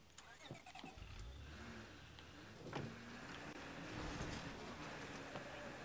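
A car engine running in the video game State of Decay 2, a steady mid-pitched hum with scattered impacts and knocks, some quiet talk underneath.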